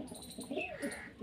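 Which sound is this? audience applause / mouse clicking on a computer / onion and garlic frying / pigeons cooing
pigeons cooing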